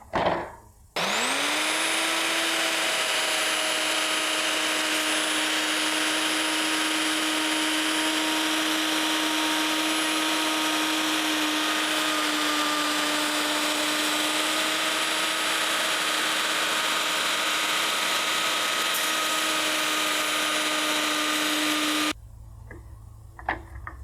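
A power tool cutting a rabbet in wood runs loud and close for about twenty seconds, a steady high whine with a pitch that rises at startup, then cuts off abruptly.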